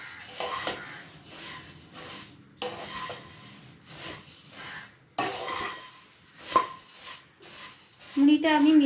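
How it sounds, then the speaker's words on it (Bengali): Puffed rice being stirred and roasted in a pan over a medium gas flame, scraping and rustling strokes that come in uneven bursts with brief pauses and a metallic clink, while a person talks. "মুড়িটা দিয়ে মিডিয়াম আঁচে গ্যাসটা রেখে নেড়ে মানে হালকা একদম ভেজে নেবো মুড়িটা।"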